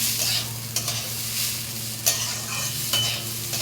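Washed rice is stirred in a pot over heat, a steady hiss and sizzle with a few sharp scraping knocks of the spoon at irregular intervals, close and alone.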